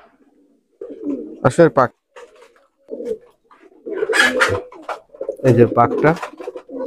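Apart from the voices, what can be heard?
female Nildumma pigeon cooing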